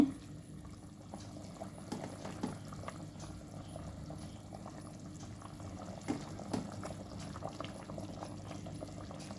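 Sea fish curry bubbling in a pot as small fish are dropped in one by one, a faint steady simmer with a few soft plops and splashes.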